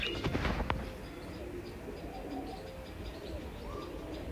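Homing pigeons back on their rooftop loft give soft, low coos against a faint outdoor hum, with a few sharp knocks near the start.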